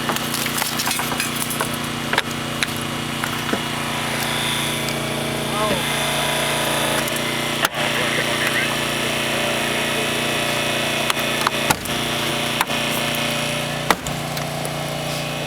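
A Holmatro hydraulic rescue tool forces a car's already-cut B-post during a volunteer fire department training. A loud, steady power-unit drone runs throughout, broken by sharp cracks and snaps of metal giving way.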